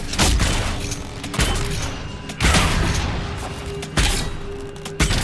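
Several heavy bomb explosions in Dragon Age: Inquisition land in sequence, roughly a second apart, each a sharp thudding blast followed by rumbling decay amid game-like background noise.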